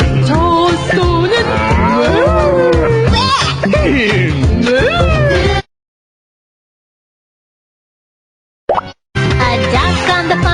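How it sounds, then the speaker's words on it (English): Mooing from a farm cow and meowing from a cat sound in a quick run of loud, close animal calls, followed by a long silence and then a brief burst of sound. "A cow on the farm says moo, moo, moo."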